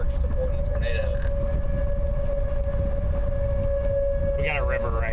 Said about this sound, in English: You guys can hear the sirens there.